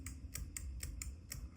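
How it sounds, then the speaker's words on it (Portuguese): Small scissors on a SOG PowerPint multitool snipping, a steady series of about six short, crisp clicks at even intervals, close to the mic with no talking. "Então a tesoura desse multitool é horrível"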